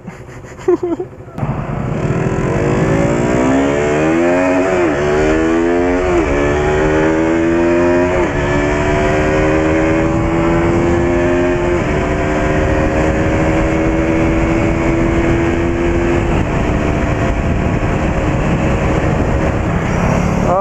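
Several motorcycles rev and accelerate on an open road, their engine pitch climbing and shifting through gears in a loud continuous roar, with wind noise and a rider's voice underneath.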